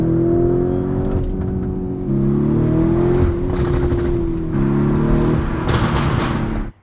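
A 2023 Lamborghini Urus S twin-turbo V8 roars hard under launch control acceleration, loud and close, its engine note climbing through gears with brief shift dips before cutting off abruptly.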